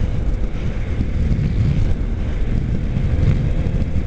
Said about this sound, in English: Now we're going to give it a lot more throttle.